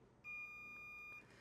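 A multimeter continuity tester gives one clear, sustained electronic beep of about a second while probing a capacitor on a Crucial MX500 SSD circuit board, in an otherwise quiet setting.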